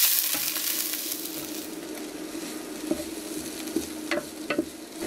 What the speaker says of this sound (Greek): Θα το αφήσουμε να τσιγαριστεί για ένα λεπτό.